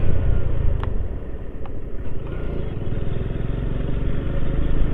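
Car or motorbike passing on the road between Pattukottai and Muthupet, heard as a steady, close engine rumble with continuous low road noise that swells slightly toward the end.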